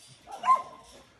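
A dog at a mountain home kennel gives a short whimpering yip, moderately close and fairly quiet, one brief call with faint background noise.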